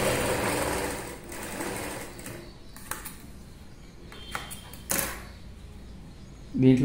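A sewing machine stitches semi-patiala pants in a ladies' tailoring class, its fast motor hum running close at first, then easing, with a few clicks and knocks as the fabric is handled.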